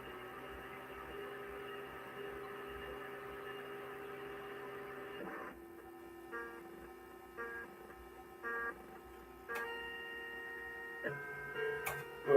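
Skyroads played through Tandy sound on a 2500 SX/20 PC produces a droning stuck note that hangs under buzzy hum, then short beeping tones and blips that come and go as the game starts, faint and without voices.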